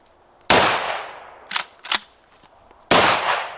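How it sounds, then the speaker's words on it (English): A cheap Chinese-made shotgun fires Federal Magnum 2 3/4 inch shock slugs: two loud, booming blasts about 2.4 seconds apart, with two quicker, sharper cracks between them, all close by and with no talking. "those are the hardest 2 3/4 rounds I have ever shot"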